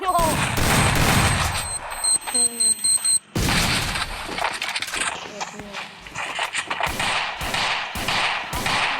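Rapid gunfire from the Free Fire video game crackles almost nonstop in loud bursts and sharp cracks, mixed with in-game effects and a few chiming tones, while players talk over it.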